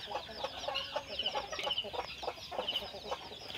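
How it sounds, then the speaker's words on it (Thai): Chickens on a rural farm cluck busily in a steady run of short, overlapping calls at moderate distance, with faint farmyard ambience and no talk. "จินจ้า ถ่ายเอาแต่ไก่นะ"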